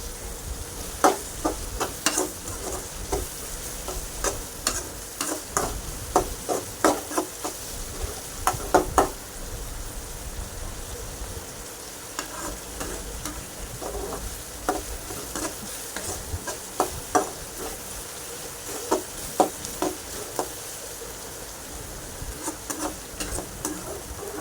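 Onions sautéing in a pan until golden, a steady sizzle broken by frequent scraping and ticking stirs, close and fairly loud throughout with no talking.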